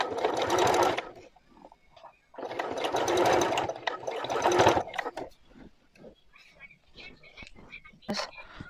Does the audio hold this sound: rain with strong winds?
no